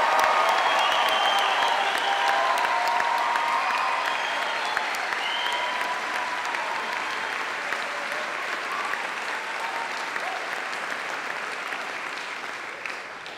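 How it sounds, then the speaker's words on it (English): A graduation ceremony audience at Birmingham City University gives a long, warm round of applause for Birmingham Conservatoire musicians, dense clapping that stays strong and even, then slowly eases in level toward the end. "a warm round of applause"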